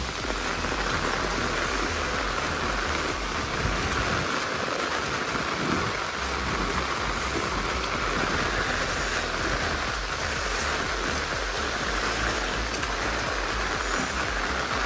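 Heavy monsoon rain near Nanemachi waterfall in Mahad, Raigad, a loud, unbroken hiss of downpour mixed with rushing water, steady throughout with no voices.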